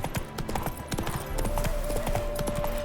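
Geralt's horse Roach in The Witcher 3 clops along with quick, steady hoofbeats close by, over game ambience, with a sustained tonal sound entering partway through.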